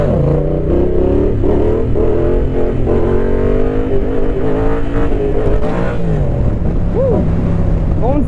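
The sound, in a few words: Yamaha Tracer 700 motorcycle engine riding at low speed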